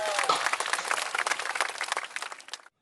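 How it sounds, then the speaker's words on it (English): A group of young children clap together during an indoor kindergarten game, a quick uneven burst of many hands lasting a few seconds before stopping abruptly. "Clap for yourself."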